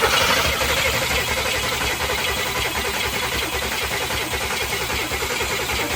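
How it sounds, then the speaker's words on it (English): A 1969 Cadillac engine cranking over on a new fuel pump drawing from a gas can: a steady, loud, rhythmic starter churn that continues throughout without catching. "With the pump drawing from a can of gas, we cranked it up"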